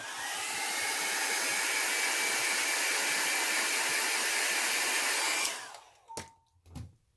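A hair dryer blows a steady, loud rush of air over alcohol ink for about five seconds, then switches off, followed by a couple of faint clicks and handling sounds.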